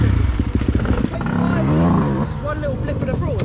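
A motorcycle engine revs under the throttle on a trail ride. A loud, throbbing engine note rises and falls up close, with people talking over it.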